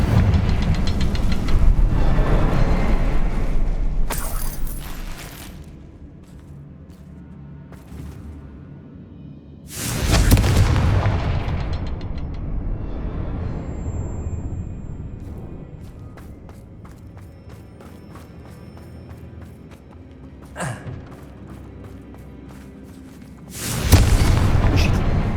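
Confringo spells burst in Hogwarts Legacy: loud, deep booms hit at intervals, each followed by a rumbling decay under ongoing game sound.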